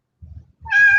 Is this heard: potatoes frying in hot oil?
no